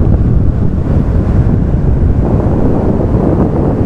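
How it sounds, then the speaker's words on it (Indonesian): Large waves crash onto a beach on the south coast of Java during a turtle hatchling release, a loud, continuous roar of surf mixed with heavy wind buffeting the microphone, with no talk. "Oke, ombaknya datang teman-teman. Ombak datang."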